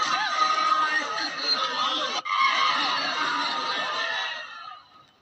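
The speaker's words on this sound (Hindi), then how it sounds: "ये चीख पुकार मातम आपने सुना।" Many voices scream and wail together in mourning, a loud, sustained chorus of distress after student deaths in Iran, continuing without pause before fading out near the end.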